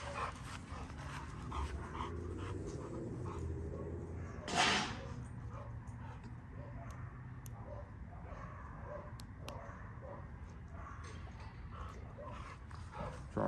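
Blue merle XXL pit bull dogs pant and move about outdoors, with a sharp bark or snap partway through and faint background talk.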